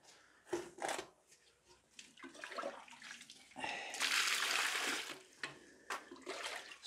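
Water is poured into lime to mix limewash in a brief, loud, gushing stream lasting about a second, framed by quieter knocks and handling sounds with someone speaking softly.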